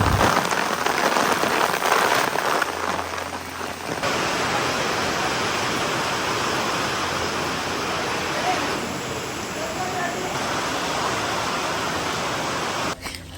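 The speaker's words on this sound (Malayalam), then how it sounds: "കുറച്ച് കഴിഞ്ഞപ്പോൾ ഒടുക്കത്തെ മഴയും കാറ്റൊക്കെ ആയി." Heavy rain with wind pouring down outdoors, a loud dense hiss of water on surfaces that holds steady throughout, with a few louder gusty shifts and no clear voices.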